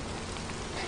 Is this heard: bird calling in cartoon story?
no